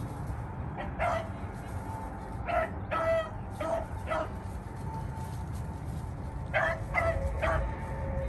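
A small male beagle bays in repeated short bursts while running a rabbit, heard at a moderate distance in outdoor evening air. A few calls come in quick clusters, separated by quieter stretches of background noise.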